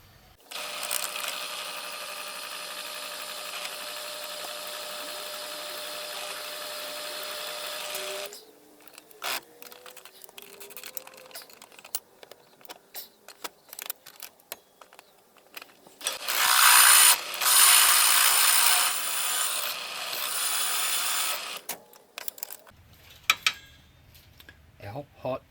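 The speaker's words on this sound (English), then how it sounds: "Looks like we're drilling these out." Power drill boring out a solid metal shifter rod for a short-shifter build, a long steady high whine of cutting that stops, followed by clatter and handling noises, then another loud burst of drilling and sparse knocks.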